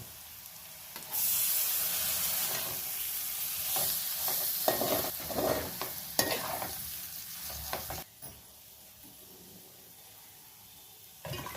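Village-style pond fish curry with tomatoes and coriander powder stirred in a pan, a loud wet sizzle with sloshing and scraping strokes that starts abruptly and stops suddenly near the end, close up, no speech.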